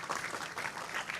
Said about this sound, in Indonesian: Tepuk tangan dulu untuk Mas Adi Pujo